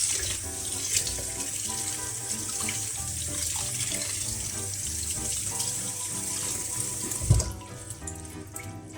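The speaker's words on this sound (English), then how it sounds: "you throw it into water, you give it a good clean, thorough clean, get all the excess salt off it" Tap water runs steadily into a sink as salted cabbage is rinsed for kimchi, a close, continuous splashing stream with background music that cuts off near the end.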